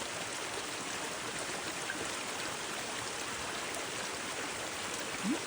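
Water flowing during a landslide, a constant dense rushing like a fast stream, steady and moderately loud throughout with no voices.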